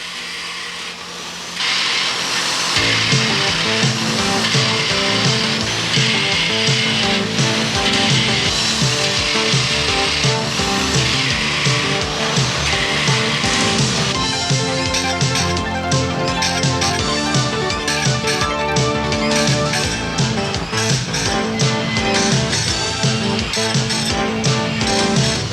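A large blade-sharpening machine in a sawmill's sharpening building starts after a short quiet moment, then runs as a loud, continuous mechanical grinding and whirring that shifts in tone partway through. No one speaks.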